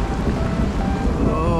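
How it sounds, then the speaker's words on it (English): A heavy storm sweeps over a riverside fishing spot on the Ebro, with loud, steady rain and rumbling wind-driven noise filling the whole stretch, deep low roar throughout. "Proper storm coming through."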